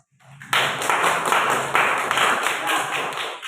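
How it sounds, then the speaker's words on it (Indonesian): Students in a classroom break into applause, a dense burst of many hands clapping that starts abruptly after a brief quiet and carries on steadily and fairly loud to the end. "Boleh dikasih aplaus."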